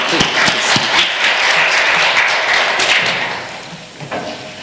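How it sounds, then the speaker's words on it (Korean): A church congregation claps during a Sunday service, with a burst of sharp, close claps swelling into sustained applause that thins out and fades with a few last scattered claps. "크게 한번 박수 한 번 더."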